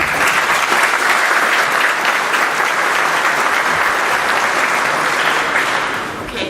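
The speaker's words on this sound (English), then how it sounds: "give her a big round of applause" A conference audience at BrewCon 2012 gives a keynote speaker a big round of applause, a full, even roar of clapping that holds strong and then fades slightly at the end.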